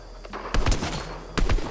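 Several bursts of gunfire from players shooting each other in Fortnite, sharp cracks in two clusters over a low game background.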